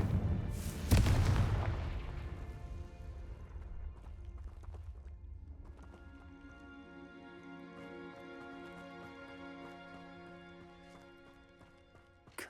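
A Confringo fire spell in the video game Hogwarts Legacy bursts in a loud, booming explosion early on. Rumbling debris and a layered musical score follow and fade slowly behind it.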